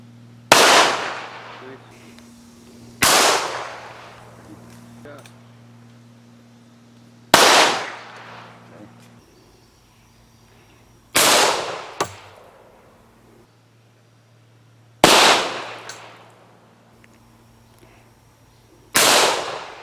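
Rifle shots fire at armor plates made of recycled milk jug plastic with thin composite layers. Six sharp, loud reports come at irregular intervals of a few seconds, each decaying quickly into a quiet background hum.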